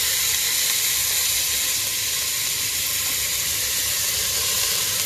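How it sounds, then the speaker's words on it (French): Leek sweating in a pan for a pea soup gives a steady, close, bright sizzle and hiss that holds evenly without pause, with no talk over it. "ce que vous allez faire, c'est faire suer votre poireau"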